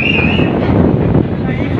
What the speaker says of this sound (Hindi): और इतना तेज हवा चल रहा है यहाँ